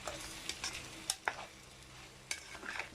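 Vegetables lightly fried and stirred in a pan for chicken pasta in white sauce, a soft low sizzle broken by several sharp scraping stirs and utensil knocks, close and fairly quiet.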